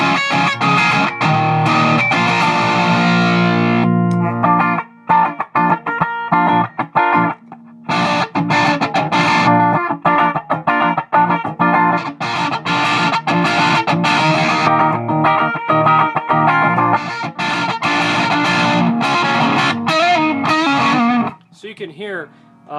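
An electric guitar played through a Boss DS-1 distortion pedal with the drive set very low already breaks up noticeably. Loud chords and riffs come in bursts separated by short pauses.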